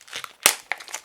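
New wire strippers being opened from their packaging: a few soft crinkles, then a loud, sharp crackling tear, followed by lighter rustling bursts, close and alone.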